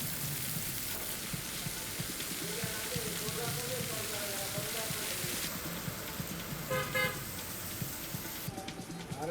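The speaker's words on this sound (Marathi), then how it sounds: "अरे एवढा जोराचा पाऊस चालू आहे," Heavy pre-monsoon rain in Buldhana, heard from inside a car with its windows wide open: a loud, constant wash of drumming noise, with voices talking through it and a brief horn toot near the end.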